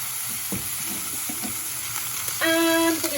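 Chicken ballotines browning in a frying pan, a constant close sizzle of hot fat with a few soft scrapes as they are turned, no talking.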